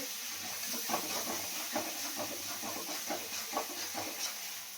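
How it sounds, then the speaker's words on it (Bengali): Chopped garlic sizzles in hot oil left over from frying chicken for a dry chilli chicken recipe, giving a continuous loud hiss and crackle with faint clinks from the pan throughout. "এবার ওই তেলের মধ্যেই দিয়ে দেবো রসুন।"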